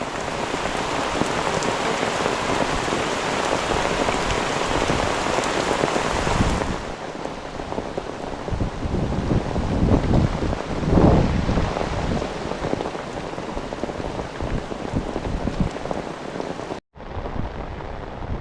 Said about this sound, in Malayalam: ഭയങ്കര മഴ എന്ന് പറഞ്ഞാൽ ഭയങ്കര മഴ